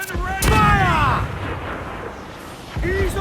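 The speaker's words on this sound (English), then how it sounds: "Cannon ready! Fire!" Ship cannons in Assassin's Creed IV fire in heavy booming bursts at the start and again near the end, with loud rumbling tails, mixed with shouted voices.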